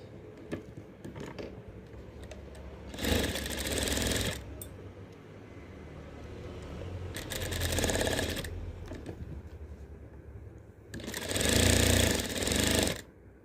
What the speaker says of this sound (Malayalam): നമുക്ക് ആദ്യം ഇതിൻ്റെ നെക്ക് തയ്ക്കാനുള്ള പീസ് ഒന്ന് മടക്കി അടിച്ചെടുക്കാം.